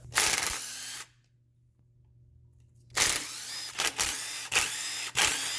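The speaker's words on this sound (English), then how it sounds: "get your 10 mil and start taking these bolts out" A 10 mm ratchet or power tool whirs in short, loud bursts while removing transmission pan bolts on a 2006 Subaru Outback 2.5 SOHC, with a quiet gap and a low steady hum between runs.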